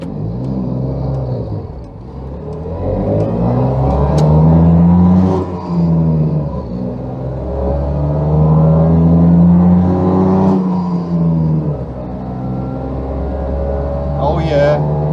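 A 356cc Daihatsu Fellow Max driving along a road at about 30 mph, its small engine droning loudly and steadily with rising and falling revs as it changes speed, while people talk inside the car.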